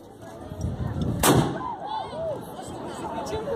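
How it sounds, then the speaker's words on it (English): A musket volley fired by reenactors at a medieval festival at Vianden Castle, Luxembourg: one sharp, loud blast with a rumbling tail, then a crowd murmuring outdoors afterward. "Fire in volley!"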